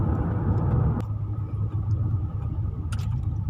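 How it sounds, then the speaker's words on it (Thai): Cars crawl in a traffic jam on a Bangkok expressway, a close, steady low engine rumble heard from inside a vehicle, with a short sharp click partway through and no talking. "เรามาชมรถติดกันดีกว่านะครับ"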